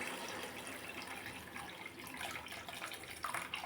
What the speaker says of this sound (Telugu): అదిగోండి కూర అలాగా ఉడికినప్పుడు మనం చింతపండు నీళ్ళు వేసేసుకుందాం.